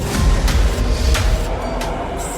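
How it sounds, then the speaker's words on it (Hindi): Metro train at Dwarka station pulling away after its doors close, a loud low rumble with rail clatter and a few sharp clanks, fairly close and with no voices. "दरवाजे बंद हुए और मेट्रो चली गई।"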